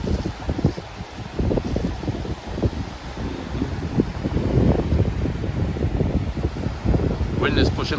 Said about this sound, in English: Wind is pushing a bit.